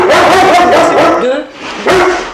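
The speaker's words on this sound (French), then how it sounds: "il y a le chien qui aboie" A dog barks in the background of a home setting, yipping sounds mixed in while someone talks over it almost continuously.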